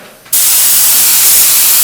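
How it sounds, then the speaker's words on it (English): A spray gun bursts on abruptly and holds a steady, loud, hissing spray of fine clear finish as mist for nearly two seconds, up close. "Now let's spray a little on here."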